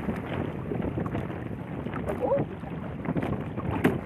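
Strong wind buffets the microphone over choppy sea at a small fishing boat, a steady broadband roar with low rumble and occasional gust peaks, no voices.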